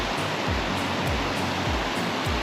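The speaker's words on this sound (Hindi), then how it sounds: "नदी के एकदम पास आ गया हूँ। यहाँ पर तो तेज़ है और आवाज़ भी इसकी काफ़ी आ रही है" A fast-flowing mountain river on the Adi Kailash trek roars steadily and loudly close by, a dense unbroken rush of water with occasional low thumps underneath and no voices.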